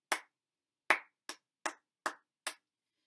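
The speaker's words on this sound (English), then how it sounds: "When I clap this, the naughty pattern" Hands clap out a rhythm pattern in a quiet room: six crisp, close claps, two spaced apart and then four quicker ones in an uneven beat, with silence between each.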